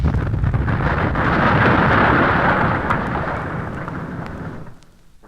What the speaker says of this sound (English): The explosion tore away too much of the wall.